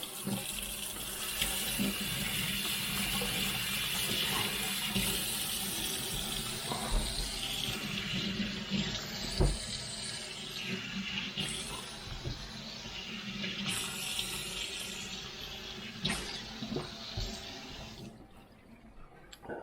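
Food is rinsed under a running kitchen tap, a steady close rush of water splashing into a sink for nearly twenty seconds, shifting as items pass through the stream before it shuts off at the end.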